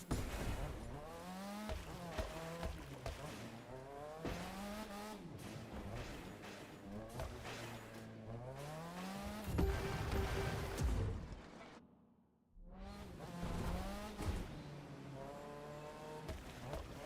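A car engine in a racing video game revs and climbs through gears continuously, with rising and falling pitch sweeps and occasional tire squeals, briefly cutting out near the end before resuming loud and close.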